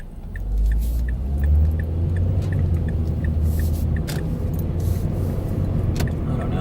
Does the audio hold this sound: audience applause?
no